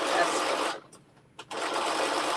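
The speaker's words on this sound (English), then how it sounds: "going around these circles on the sewing machine" A home sewing machine stitches around circles while making a garment from a McCall's pattern, a steady fast whirring hum that stops briefly, gives a short burst, then runs again, close and loud.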